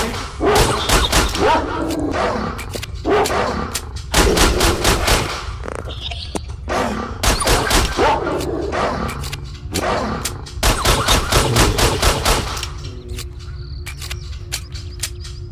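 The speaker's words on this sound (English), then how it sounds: "Sounds like you're shooting zombies or something." Rapid bursts of video game gunfire mowing down attacking dogs, loud and close, in repeated volleys with short gaps, mixed with snarls and roaring creature noises.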